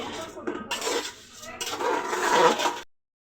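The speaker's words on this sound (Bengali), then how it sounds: "ফুফু নেড়ে নিচ্ছে" Khichuri made with polao rice being stirred in a cooking pot, a scraping, rasping rub of a utensil against the pot in uneven strokes, fairly close, with a brief pause midway and no talk.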